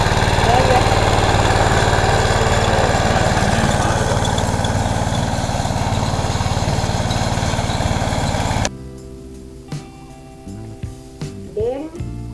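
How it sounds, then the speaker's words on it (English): A motor engine runs loudly and steadily at close range, then cuts off abruptly near the end, leaving quieter ambient sounds with a few soft knocks. "This motor doesn't use anywhere near as much fuel as the"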